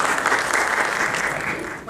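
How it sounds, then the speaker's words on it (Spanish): Steady, dense applause from an audience at a financial-reporting diploma lecture, welcoming the next speaker; the clapping stays loud and even for about two seconds before thinning at the very end. "Y lo recibimos con el permiso de todos ustedes con un fuerte aplauso"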